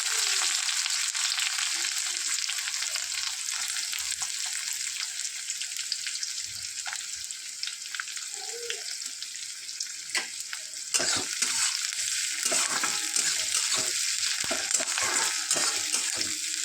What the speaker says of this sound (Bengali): এরপর এতে আমি একটু কুচনো পেঁয়াজটা দিয়ে দিলাম।